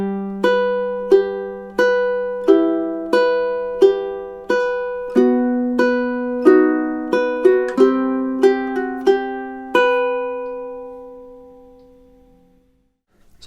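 Ukulele picks two measures of a song in an arrangement, with clear plucked notes at a steady pace, close and alone, before the last note rings out and fades to silence.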